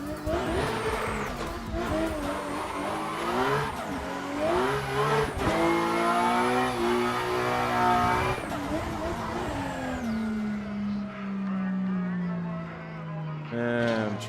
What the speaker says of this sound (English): I am going to get back in my car and actually take off